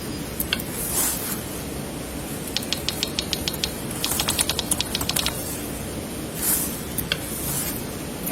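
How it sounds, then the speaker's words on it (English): Computer keyboard keys clatter in short bursts of rapid clicks separated by pauses, close and crisp, with faint shuffling underneath and no speech. "I'm just typing your information in here"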